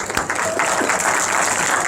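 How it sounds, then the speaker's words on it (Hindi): Students in a university Q&A session applaud, a short burst of dense, loud clapping that fills the whole moment with a faint murmur beneath. "तालियां बजाओ रग्बी के लिए"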